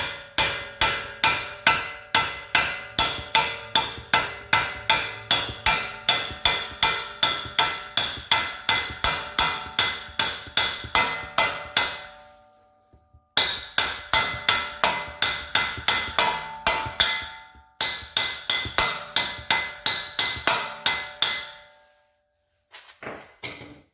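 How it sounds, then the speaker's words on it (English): A hammer taps repeatedly on the CV axle of a 2005 Dodge Ram during a wheel bearing and hub replacement. The strikes are close, loud and metallic in a steady rapid rhythm, with brief pauses. "So tapping on the CV axle."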